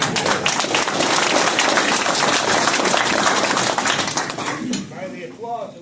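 Loud, sustained applause from a large crowd at an annual meeting for a governor candidate fills the room, with dense clapping that tapers off toward the end.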